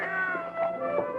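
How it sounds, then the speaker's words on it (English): A cat gives a short, tonal meow, fairly clear and close, with no talking over it. "Oh, the cat."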